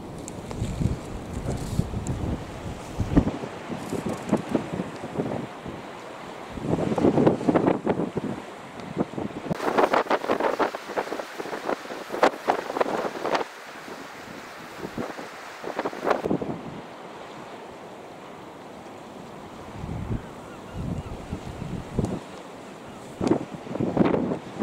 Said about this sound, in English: you're trying to get out of the wind over there a bit, Link.